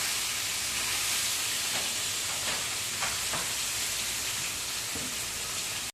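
Tilapia fish frying in oil at a roadside dhaba give a steady, dense sizzle and hiss close up, constant throughout with a few faint clinks beneath and no voices.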